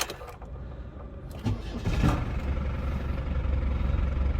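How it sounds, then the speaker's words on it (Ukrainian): A Volkswagen LT van's 96 kW TDI diesel engine with 317,000 km cranks briefly and fires up, then settles into a clattering idle close by. "заводимо зараз цей двигун"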